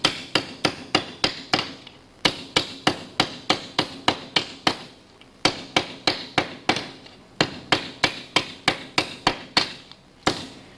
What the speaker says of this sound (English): We'll do some planishing and some more further shrinking on the low